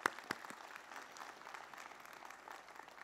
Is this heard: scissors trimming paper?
no